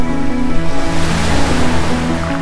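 Mediterranean sea waves wash in a steady, loud broadband surf, blended with sustained musical tones playing over the top.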